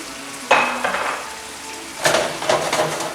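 Shrimp sautéing in a pan for Thai shrimp basil, with two short bursts of sizzling and stirring about a second and a half apart, the sizzle fading back to a quiet hiss in between.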